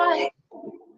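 Pet birds call nearby, a short bright warbling chirp followed by a softer, lower cooing phrase, faint and close in a quiet room with no talk.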